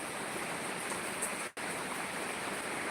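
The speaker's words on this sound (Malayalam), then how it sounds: "നല്ല മഴയാണ് മുമ്പിലൊക്കെ നല്ല മഴ കാറ്റ് കാറ്റ് കാറ്റും മഴയും" Heavy rain and wind around a house amid dense greenery make a steady, broadband rushing roar with no distinct drops, briefly cut at one moment, then continuing unchanged and fairly loud.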